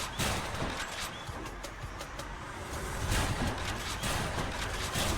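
Rapid shots from the Hestia rail in Hades fire in a quick steady stream of sharp cracking pops over a busy, noisy game background, loud and continuous throughout.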